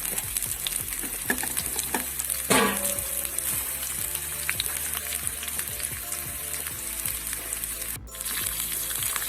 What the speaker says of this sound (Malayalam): നമ്മൾ തയ്യാറാക്കി വെച്ച ബീട്രൂട്ടും ഓളയും മുളകും കൂടി ചേർത്ത് ഒന്നിച്ച് തന്നെ നമുക്ക് ചട്ടിയിലേക്ക് ഇട്ട് കൊടുക്കാം